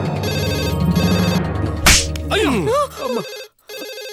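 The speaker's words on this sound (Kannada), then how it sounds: "ಫೋನು ರಿಂಗ್ ಆದ ಶಬ್ದಕ್ಕೆ ಸೈಲೆಂಟ್ ಇದ್ದ ನನ್ನ ಬಾಡಿ ವೈಬ್ರೇಷನ್ ಮೋಡಿಗೆ ತಿರುಗಿದೆ" A phone ringtone rings loudly with a repeating electronic tone, then breaks off in a sharp burst and gives way to a short exclamation and warbling sounds before a brief silence.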